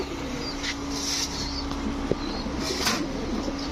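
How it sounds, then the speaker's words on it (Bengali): A pair of Naptha pigeons, a cock and a hen, coo softly in a loft with a low repeated murmur beneath background hum, plus a few faint wing flutters and small sharp knocks. "এখন দেখাবো এক জোড়া নাপ্তা কবুতর। এটা হচ্ছে আপনার নর, এই হচ্ছে আপনার মাদি।"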